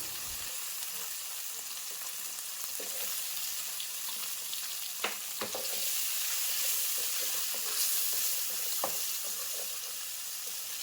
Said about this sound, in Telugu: దీనిలోకి ఉడికించి పక్కన పెట్టుకున్న గ్రీన్ పీస్ అండ్ క్యాప్సికమ్ని యాడ్ చేసుకొని వేయించుకుందాం.